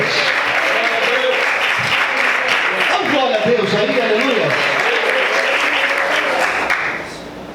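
A church congregation claps and praises together while a preacher's voice rises over the dense, steady applause, which fades near the end.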